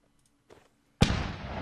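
Artillery cannon firing in the video game Mount and Blade, North & South mod line battle: one sudden loud boom with a long rumbling decay, preceded by a faint short crack.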